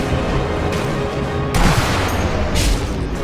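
Loud, booming gunfire in the video game Sniper Elite V2, with heavy shots bursting over a dense, constant background of battle noise, the strongest blasts landing near the middle and toward the end.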